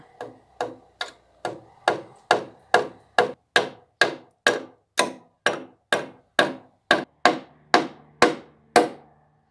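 Steady hammer blows drive a nail into a wooden joist, about eighteen sharp, evenly spaced knocks ringing close and loud with brief decays and no voices.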